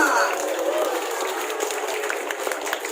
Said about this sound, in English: Everybody give a round of applause for Aprila.